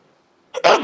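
A single sudden sneeze bursts out loud and close after near silence, a brief sharp explosive blast trailing off quickly.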